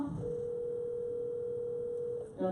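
A phone ringing tone on a hands-free call to a mother: a single steady electronic tone holds for about two seconds, loud and unbroken, then cuts off.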